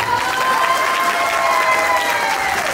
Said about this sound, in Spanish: Vamos a brindarles fuerte el aplauso